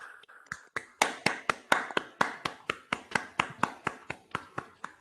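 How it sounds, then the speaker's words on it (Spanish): Applause at an engineering academy ceremony for Roberto Vescina: sharp, evenly spaced claps in a steady rhythm, close and clear, with no voices over them. "ahora sí podemos darle el aplauso que se merece"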